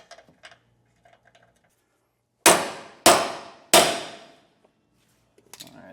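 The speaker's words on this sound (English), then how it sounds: "we're going to hammer this in because once again, this does have some splines." Three loud metallic clangs ring out in quick succession as a hammer drives a splined bolt into a Dexter E-Z Flex trailer suspension on a 2012 Forest River Wildwood, each strike decaying before the next, with a brief word spoken earlier.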